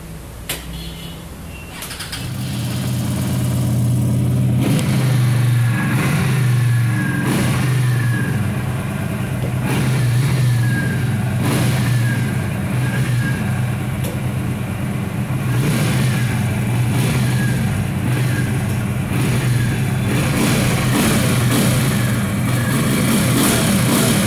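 A 400cc twin-cylinder touring motorcycle engine starts up and idles with a deep throbbing rumble, then revs repeatedly in loud rising surges close to the listener.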